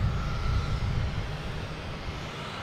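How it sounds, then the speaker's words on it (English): Delta Embraer E175 jet arriving at Boston Logan from Louisville, a dense low rumbling engine roar, steady and fairly close, slowly easing off toward the end, with no voices. "We have a Delta coming in from Louisville, an E175."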